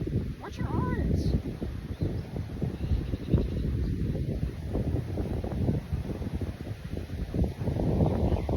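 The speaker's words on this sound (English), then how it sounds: "I don't like how windy it is." Strong wind blows steadily across a microphone outdoors during a beehive inspection, a loud, continuous low rumble with gusting buffets throughout, plus faint bird chirps near the start.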